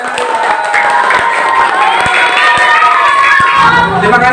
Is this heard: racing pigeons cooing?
no